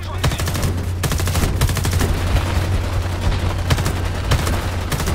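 Homefront: The Revolution shootout with steady automatic weapon fire, dense rapid shots rattling almost continuously for several seconds over a low background rumble.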